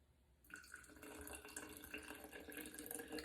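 Water runs steadily into a bowl for a sourdough starter, starting abruptly and continuing as a close, quiet splashing pour with no talking.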